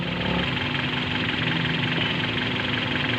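A Hyundai Starex gasoline engine idling rough with a misfire from a faulty coil, a loud, steady low drone with uneven knocking pulses, heard close and alone.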